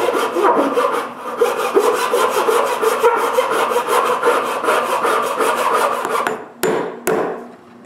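Hand saw cutting a slot into the top of a wooden block that locks a truss bearing on a homemade wooden bandsaw: steady, rhythmic back-and-forth strokes close up, then it stops, followed by a couple of sharp knocks.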